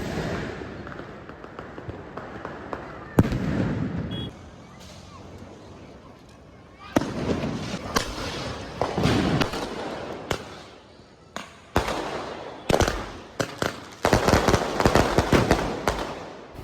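Diwali firecrackers bursting at Shivaji Park, a dense run of sharp cracks and booming blasts in irregular clusters, some near and loud, some farther off, with people's voices breaking in between.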